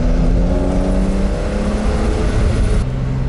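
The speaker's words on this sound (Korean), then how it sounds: "자, PDCC를 켜고 코너를 감습니다." Porsche 911 of the 992 generation cornering with PDCC switched on, a steady loud engine drone with whirring road and tyre noise, heard from on board without talk.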